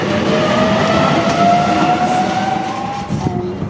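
A train runs steadily past at Casula train station, loud and close, with a continuous rumbling roll, rail clatter and a faint high whine, and no voices over it.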